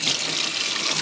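Water runs from a tap into a kitchen sink while a coffee maker is rinsed, a close, steady splashing rush through the whole brief moment.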